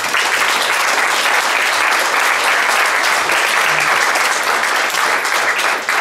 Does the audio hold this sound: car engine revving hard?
no